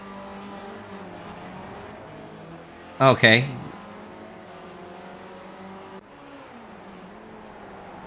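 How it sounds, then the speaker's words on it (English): Cars racing around an autocross course, with a sharp burst of tire squeal and engine noise about midway, set against a steady low rumble of distant driving while people talk nearby. "I hear cars."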